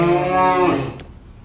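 A single long, loud moo from a large beef cow among jumbo cattle of up to a ton, close and sustained before trailing off into quiet.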